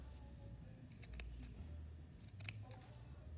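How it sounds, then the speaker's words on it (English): Scissors snip into the curved fabric edge of a Christmas stocking's lining and batting: two quick clusters of crisp cuts, close and fairly quiet, over a low background hum. "What you're going to do now is we are going to snip into our curve"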